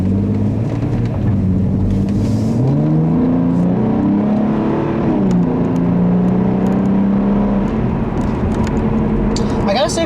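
A 2012 Hyundai Genesis Coupe with the 3.8 liter V6 accelerating, engine pitch rising and shifting through gears in a steady, loud drone heard from inside the car.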